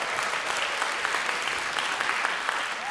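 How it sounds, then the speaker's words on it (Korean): A school-stage audience applauds to welcome a young performer at a Korean family event. The clapping is steady and dense, fairly close, and lasts the whole few seconds with no voices over it. "큰 박수로 맞이해 주십시오"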